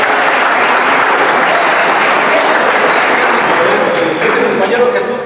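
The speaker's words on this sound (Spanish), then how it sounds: "¡Aplausos!" Loud, sustained applause fills a hall at a health promoters' gathering in Morelia, many hands clapping close and constant throughout.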